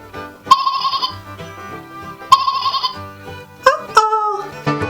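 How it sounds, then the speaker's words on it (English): A sheep bleats in repeated wavering calls, two long clear bleats followed by shorter ones, loud and close with no talk. "Baba, says the sheep."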